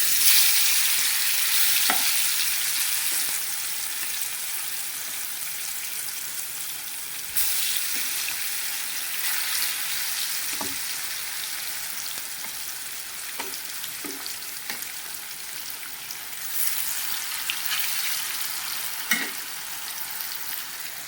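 Chicken fries in a pan with a continuous close hiss, broken every few seconds by soft stirring scrapes and light clinks, and no voices.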